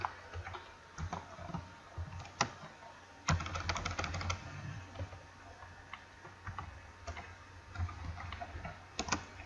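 Someone types on a computer keyboard, producing quiet, irregular clicks and occasional short flurries of keystrokes against a low background hum.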